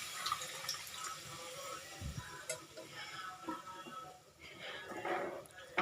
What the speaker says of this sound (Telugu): అది కొన్ని వాటర్ వేసేస్తున్నాను.